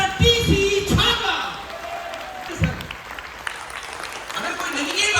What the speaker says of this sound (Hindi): एक बार शानदार तालियां चाहता हूं ऐसे महान पुरुष के लिए